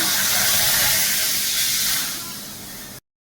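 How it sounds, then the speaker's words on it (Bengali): Water is poured into a hot kadai and bursts into loud, close, hissing steam that sizzles steadily, eases off slightly, then cuts out abruptly. "এবার কড়াইতে আমি জল দিয়ে নিচ্ছি।"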